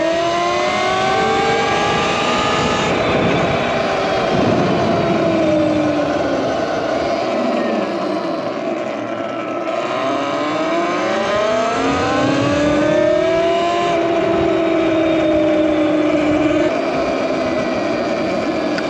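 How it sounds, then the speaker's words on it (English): Cars pass close by on a busy road in a steady stream, their engines rising and falling as each one sweeps past, with no gaps of quiet. "Oh, this is way too much traffic for me."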